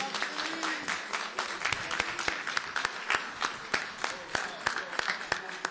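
Audience applause at an evening music gathering, a steady wash of many hands clapping with sharp individual claps, heard alone and fairly distant.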